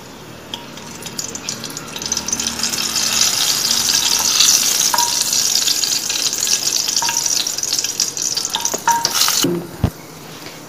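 Fenugreek seeds roasting in hot oil for spiced okra give a continuous close crackling sizzle, punctuated by occasional clinks of a spoon against the pan, and ending with a sharp knock.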